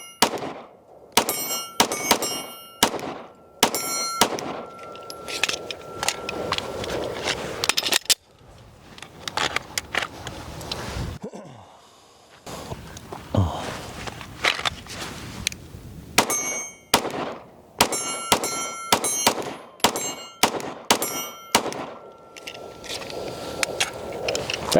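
Rapid strings of sharp pistol shots from a Shadow Systems DR920 Elite, fired in fast bursts with short pauses between strings, loud and close, with metallic ringing after the shots.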